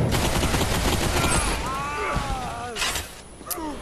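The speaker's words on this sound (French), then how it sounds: "Qui c'est qui tire là?" Gunfire and impacts in the Bulletstorm VR shooter game on Quest 3: dense, loud rapid shots and crackling bursts mixed with whooshing, swooping effects, with a voice speaking over the action.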